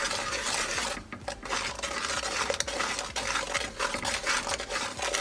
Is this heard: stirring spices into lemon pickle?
yes